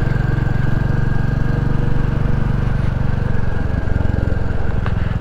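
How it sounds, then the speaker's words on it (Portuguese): A Royal Enfield Classic 350 motorcycle with a 350 engine idles with a deep, steady exhaust thump, loud and close, running evenly without talk. "O escapamento tem um som grave."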